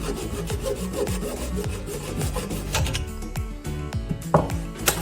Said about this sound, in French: on va couper la tuyauterie à 5 à 10 cm du mur pour pouvoir s'y raccorder avec un manchon en joint